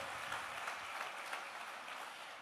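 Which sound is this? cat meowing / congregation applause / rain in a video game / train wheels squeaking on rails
congregation applause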